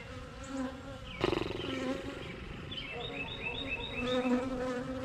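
Dense, steady buzzing of many honeybees close by, a continuous droning hum with a few brief voices and knocks underneath.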